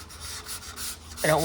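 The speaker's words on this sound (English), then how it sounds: "I'm just gonna do this really light just to give it a good scuff, and I'm only using 220" A car door panel on a 1965 Mercury Comet Cyclone is lightly scuff-sanded with 220-grit paper, soft rhythmic rubbing strokes close by, quiet, followed by a brief brighter scrape at the end.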